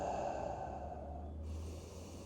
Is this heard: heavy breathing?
yes